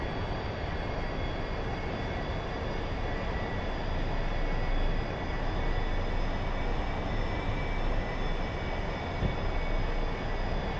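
A-4E Skyhawk jet engine held at high power in a flight simulator, a steady loud roar and whine that stays even throughout, with no one speaking.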